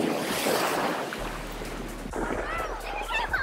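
Ocean waves wash and churn around a waterproof Galaxy Note 7 phone held in the sea, with close, rough surf and wind buffeting the microphone throughout.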